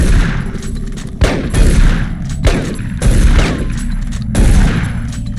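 Shotgun blasts in the sci-fi shooter Doom 3, four loud heavy booms spaced about a second apart, each with a ringing tail and metallic clatter between shots.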